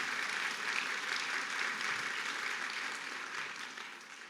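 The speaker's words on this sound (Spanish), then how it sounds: "fuerte aplauso al Señor," A church congregation applauding for the Lord, steady dense clapping from many hands that fades slightly toward the end.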